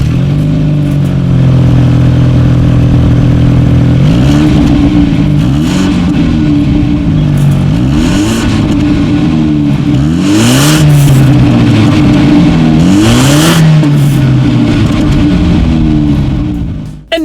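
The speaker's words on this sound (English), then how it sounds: "here is that exhaust clip" A 2018 BMW 430i Gran Coupe exhaust idles, then revs repeatedly in loud close bursts, with the engine note climbing and falling several times before dropping away at the end.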